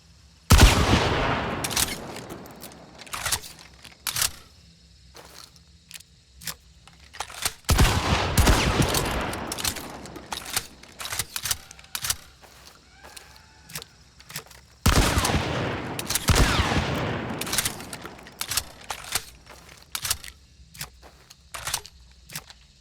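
Romero 77 Alamo lever-action shotgun in the video game Hunt firing three booming blasts, each followed by sharp mechanical clicks and clacks of the chamber and cycle reload, loud and alone with no talk.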